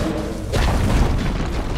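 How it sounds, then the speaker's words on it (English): A deep rumbling boom as a tower is destroyed in Dota 2, loud and sustained, swelling midway and rolling on to the end. "Dire's top tower has fallen."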